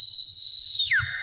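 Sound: referee's whistle blown

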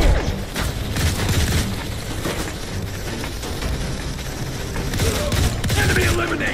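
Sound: gunfire from the video game Modern Combat 4: Zero Hour

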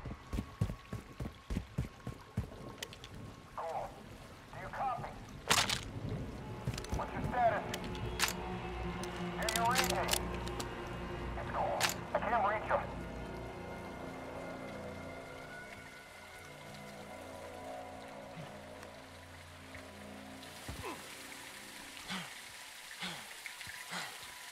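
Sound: heavy rain in video game Call of Duty Modern Warfare 2

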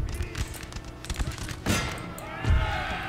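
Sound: musket volley fire in Napoleon Total War video game

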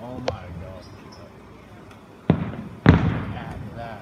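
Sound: distant fireworks show

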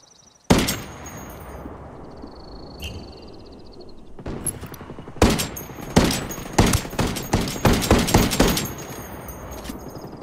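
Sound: gunfire in a video game (Ghost War)

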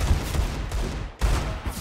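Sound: gunfire in a video game shootout

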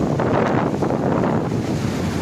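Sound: sea waves and wind on an eroded beach

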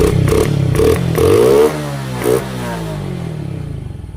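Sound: Suzuki Raider J 115 Fi motorcycle engine starting

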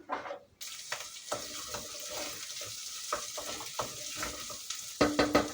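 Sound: ground meat being stirred and browned in a pan

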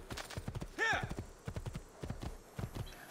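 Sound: horse hooves clip-clopping in the Assassin's Creed II video game

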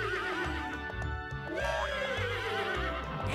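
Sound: horse neighing

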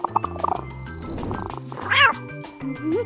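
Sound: cat meowing in a video game

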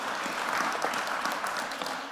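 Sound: audience applause

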